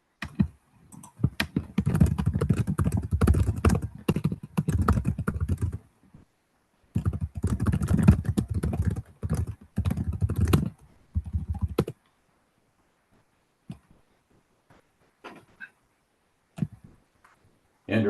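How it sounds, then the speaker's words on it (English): Aggressive, fast typing on a computer keyboard sits close to a microphone during a town conservation commission meeting, coming in two long dense bursts of loud clattering keystrokes, then a few sparse clicks and pauses. "I think you should move your microphone away from your keyboard."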